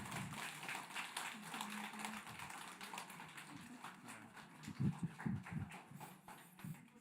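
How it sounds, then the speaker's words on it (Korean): A church congregation at a Sunday worship service claps, a faint, rhythmic patter of hands that runs steadily at low volume, with a few louder claps standing out near the end and murmuring voices underneath. "박수 한번 쳐주세요."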